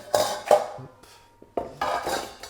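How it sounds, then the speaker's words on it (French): Rye flour and sugar are stirred together in a bowl, giving a few distinct utensil knocks and scrapes in short bursts separated by quiet gaps. "on va faire tourner juste tranquillement pour homogénéiser"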